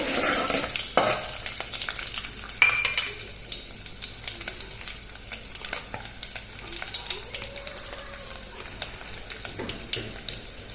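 Whole garlic cloves, garam masala and dried red chilies frying in hot oil in a pan for mutton curry, a steady close crackling sizzle with intermittent stirring clinks and scrapes.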